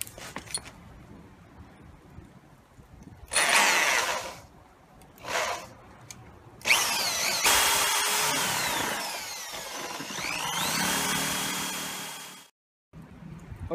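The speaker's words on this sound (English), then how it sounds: "I'm going to drill a hole in here for the rope to go through" A power drill boring into wood in short bursts, then a long steady grinding run with rising whine, close and loud, ending abruptly.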